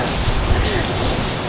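Heavy tropical rain pours steadily on Phu Quoc island, Vietnam, a dense broadband hiss with low rumbling gusts underneath, loud and close throughout.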